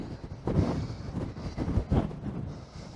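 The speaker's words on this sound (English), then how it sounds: "it is windy" Strong wind gusts buffet the microphone on the cliff-top path at Filey above Filey Bay, coming as low, rumbling surges that swell and fade several times, fairly loud, with no talking.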